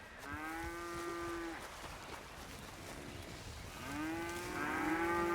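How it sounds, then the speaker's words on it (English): Cows and calves in a medieval role-play video game, mooing in two long, drawn-out calls, one at the start and another near the end, fairly faint with quiet ambience between. "I hear a cow."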